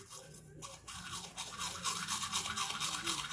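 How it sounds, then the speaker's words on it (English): Toothbrush scrubbing teeth fitted with braces, bristles working over the brackets in steady back-and-forth strokes, close and continuous, growing slightly louder toward the end. "Right now, I'm brushing on top of the brackets."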